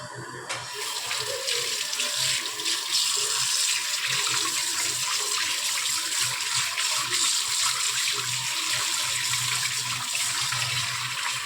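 Tap water runs in a continuous, steady rush while fish is rinsed under a kitchen faucet, close and moderately loud, with faint splashing and no talk.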